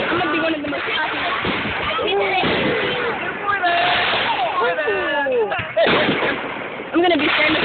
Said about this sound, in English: Who doesn't like fireworks?